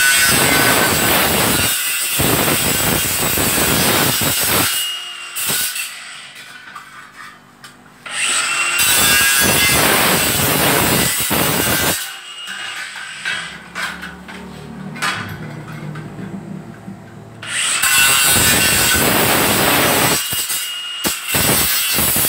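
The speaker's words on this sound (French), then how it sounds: "Tu coupes avec disqueuse." An angle grinder cuts scrap metal in three long, loud, gritty bursts, each several seconds long, separated by quieter stretches of handling clatter.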